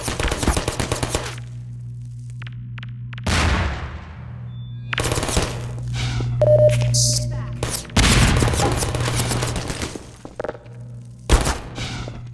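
Automatic turret gunfire in Half-Life 2: Episode 2, loud close bursts of rapid shots broken by pauses, thuds and other game noises, with no talking.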